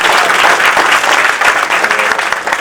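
A music-night audience claps loudly and continuously for a singer after her song at an all-India sangeet sandhya, a dense, steady roar of applause filling the whole stretch.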